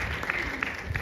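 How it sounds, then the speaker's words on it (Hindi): A short, brisk burst of clapping from a small studio audience during an interview, even and close, with no voices over it. "तो अपने आप के लिए जोरदार तालियां"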